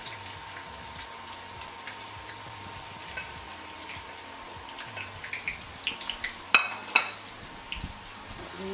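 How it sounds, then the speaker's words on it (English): Onions fry in hot oil in a pot as the base for an assorted meat stew. A faint, steady sizzle carries scattered small pops and crackles that grow busier toward the end. "We need to fry these onions really good."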